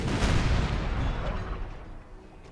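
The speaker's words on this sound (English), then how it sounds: "the cannons are about to open fire again." Cannons firing in the Napoleon: Total War video game: a loud, close, rumbling barrage of booms that rolls and fades over a couple of seconds.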